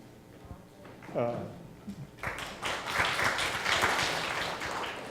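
Audience clapping at a school district board of trustees community meeting: a voice speaks briefly, then a scattered round of clapping from a modest crowd rises and carries on steadily to the end.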